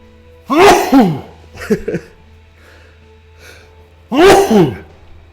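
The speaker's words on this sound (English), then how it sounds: "I feel like I'm going to sneeze." Two sharp, loud bursts like sneezes, one near the start and one near the end, with a few smaller sniffs or throat sounds between them.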